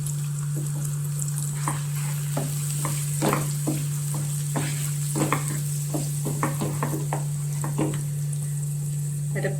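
Masala paste being stir-fried in a pan: a soft steady sizzle runs throughout, broken by repeated scraping and stirring strokes, all over a constant electrical hum.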